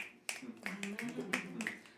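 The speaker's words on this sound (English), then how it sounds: "Finger snaps." Fingers snap in a quick irregular series of four or five crisp clicks, close and fairly loud, with a voice talking underneath.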